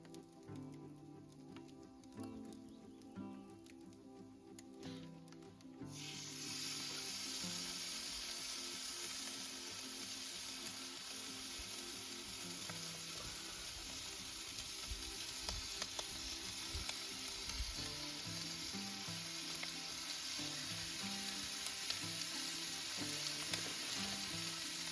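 Bacon slices sizzle and fry over a Kelly Kettle outdoors in Scotland, a quiet stretch with small handling sounds giving way to a loud, steady, crackling sizzle that holds close and constant.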